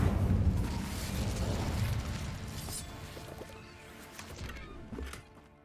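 An Incendio fire spell goes off in Hogwarts Legacy with a loud, roaring burst of fire up close that slowly dies away into crackles and scattered soft knocks.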